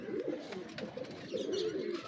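Old French breeder pigeons coo softly close by in a low, rolling warble, two or three murmuring phrases in quick succession.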